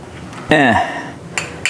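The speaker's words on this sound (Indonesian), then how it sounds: "Ngambil piring dulu." A plate is lifted from a stack of dishes while preparing a home-cooked meal, giving one bright ringing clink followed by two lighter taps, close and fairly loud with no talking.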